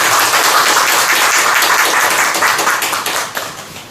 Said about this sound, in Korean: 우리 나올 때 큰 박수 하세요.